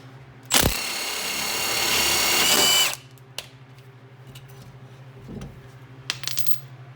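A stubby power tool whirs loudly in one burst of about two seconds, backing out the last fastener on a Civic EK lower control arm, followed by light metallic clinks and small taps.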